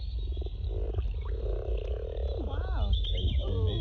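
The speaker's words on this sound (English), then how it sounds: "Sound of mating frogs." Mating frogs croak in a park pond, a continuous chorus of throaty croaks and trills over a low constant rumble, with rising calls near the end and voices murmuring faintly in the background.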